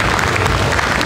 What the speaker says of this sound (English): Big round of applause to V-Moda.